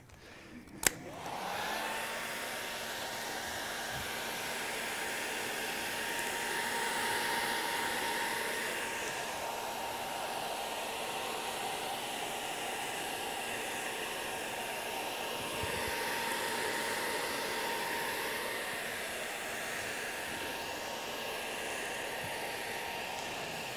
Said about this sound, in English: Hairdryer, my favourite instrument.